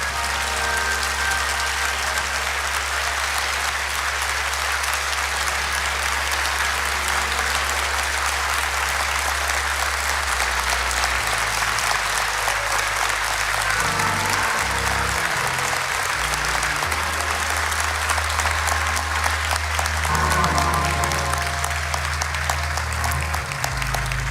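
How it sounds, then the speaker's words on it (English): A funeral congregation gives the Vice President, Kamala Harris, a long standing ovation: dense, loud, sustained clapping fills the room throughout, with some crowd noise and a low organ-like tone beneath. "since y'all stood up and clapped so long"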